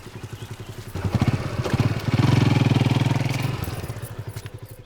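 A motorcycle engine idles in a farm setting with a steady, rhythmic low putter, briefly revving louder and rougher in the middle before settling back to a chugging idle, close by and with no speech.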